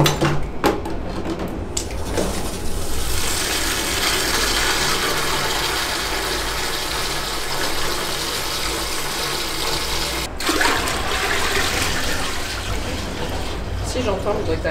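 Water flushing and draining through a newly installed wall-hung toilet that drains poorly: a steady, close rush and gurgle of water that continues for the whole stretch without pause.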